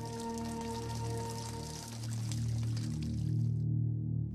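Water pours and rushes into flooding New York City subway tunnels after the power fails, a steady loud gush with a low droning hum underneath that cuts off abruptly near the end.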